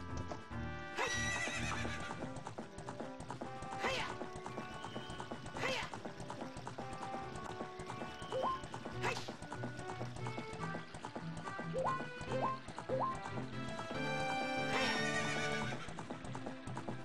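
A horse in the video game The Legend of Zelda: Ocarina of Time neighs several times over steady clip-clopping hooves, mixed with game music and sound effects and continuing throughout.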